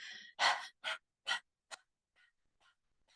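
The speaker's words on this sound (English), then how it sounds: "stick your tongue out and begin panting like a duck" Quick, breathy panting with the tongue out, as in a Kundalini breathing exercise: a few strong exhales in a fast rhythm, then softer, fainter puffs trailing off. Close and clear, with no talking.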